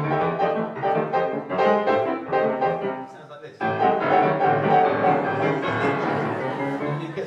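Fast stride piano performance in a jazz club setting, a dense busy keyboard texture with a brief dip near three seconds before resuming loud and full.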